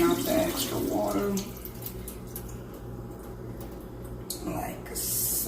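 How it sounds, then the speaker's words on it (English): Water drains and splashes out of a pot into a kitchen sink while cooking, a rushing pour for the first second or so, then a softer trickle, with a voice speaking over it. "drain off the extra water."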